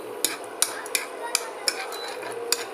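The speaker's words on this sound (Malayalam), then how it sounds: "നന്നായിട്ട് ഇത് ഇളക്കി കൊടുക്കണം." A homemade lip care mixture is stirred in a small container, giving a light continuous scrape with several sharp clinks of the utensil against the side, quiet and close.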